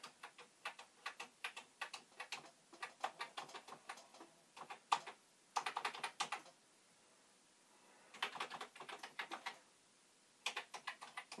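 Bursts of rapid key clicks from a Commodore VIC-20 keyboard being typed on, close and fairly quiet, coming in uneven clusters separated by short pauses.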